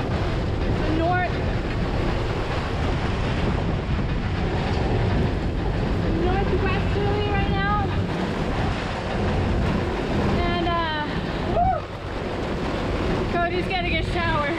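Strong, roaring wind buffets a sailboat off West Palm Beach during a microburst, with the engine running. The wind blows loud and steady throughout, rushing water is hard to separate from it, and voices talk intermittently underneath.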